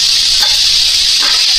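Pork chops sizzle in a frying pan with a steady, close, bright hiss that holds for the whole moment. No talking.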